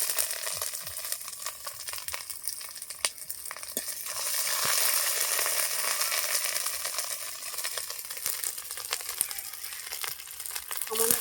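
Whole garam masala and ginger paste frying in a pan for a vegetarian pumpkin and Gobindobhog rice dish, a continuous close sizzle with occasional light clinks and stirring, swelling slightly midway, no voices.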